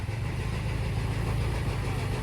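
Heavy machinery running at a slippery road works site on the Tanjakan Kayu Duo climb of Jalan Bayang Alpa, heard as a continuous low engine rumble that stays steady and fairly loud with no voices.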